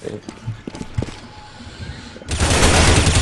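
Gunfire in a shooter video game: scattered single shots with voices talking early on, then a loud, sustained burst of rapid fire filling the final second.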